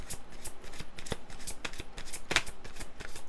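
Tarot cards are shuffled by hand in quick repeated riffles and flicks, close and moderately quiet, followed by a card being drawn with a sharp snap.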